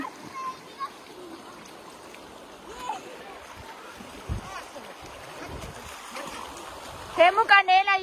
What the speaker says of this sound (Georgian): მილენა აღარ შეხვიდედი წყალში, გამოდი, დიდი ნაკადია.